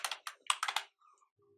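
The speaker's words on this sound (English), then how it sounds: "just click on this add button and type in background." A short burst of quick keystrokes on a computer keyboard, about eight close, crisp clicks in under a second, followed by faint computer tones.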